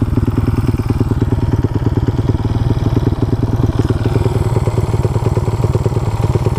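A motorcycle fitted with a 34mm carburetor idles slightly rough after a mixture screw adjustment, its close, loud engine thumping in a fast, even pulse throughout with no voices.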